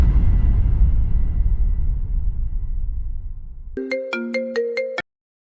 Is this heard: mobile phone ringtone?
yes